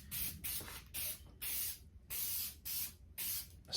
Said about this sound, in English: I'm going to use some spray glue, and I'm just going to very lightly spray over very closely